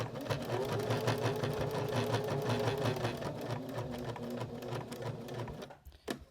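A sewing machine stitches a small fabric car freshener in a steady, fast rhythmic whir, then slows and stops with a couple of clicks at the end; no talking.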